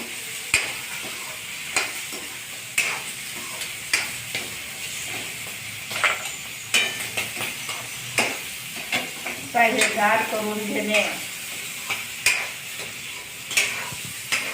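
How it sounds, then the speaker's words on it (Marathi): Green chickpeas roast on a hot pan with soft sizzling and faint hissing, broken by sharp scrapes and clinks as a utensil stirs them at intervals, while someone speaks quietly over it. "आता आपले हरभरे भाजून झाले आहेत"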